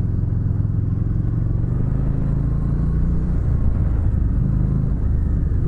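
A Harley-Davidson Street Rod motorcycle engine pulls hard, a loud, close, deep rumbling roar with shifting pitch and a rough, clattery texture, continuous and free of talk.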